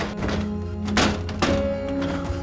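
Heavy thunks land on a locked door, two dull blows about half a second apart, loud and close against a low background murmur, with no speech during the impacts.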